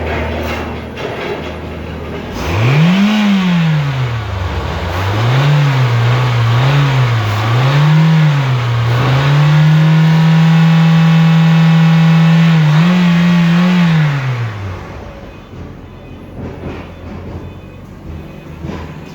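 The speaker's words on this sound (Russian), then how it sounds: "Двигатель работает ровно." A 2006 Toyota Corolla Axio 1NZ-FE engine, a Japanese contract unit with automatic transmission and 4WD, idles and then revs up and down several times. The revs hold high for a few seconds before dropping back to a smooth idle, with no talking.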